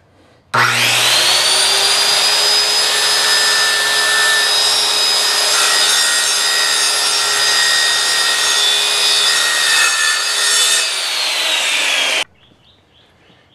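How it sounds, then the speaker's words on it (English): A saw cuts along the edge of a cherry wood board to square it to 90 degrees, giving one steady, loud, continuous whine lasting about twelve seconds before it stops abruptly. "I'm going to be sending it through, just cutting off enough to get it 90 degrees"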